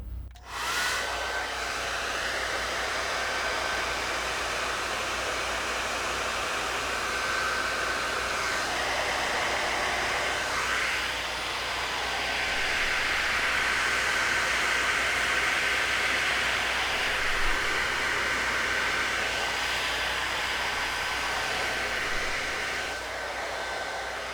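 A T3 AireLuxe hair dryer fitted with a diffuser runs on speed 2, its close, loud, steady airflow roar and high whine holding constant for the whole stretch, with no voices.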